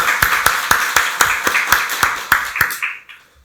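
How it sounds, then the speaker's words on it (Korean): A church congregation at a Sunday worship service claps in a brief, steady round of applause, with about ten evenly spaced claps that fade out at the end. "박수로 하나님께 영광 돌리겠습니다."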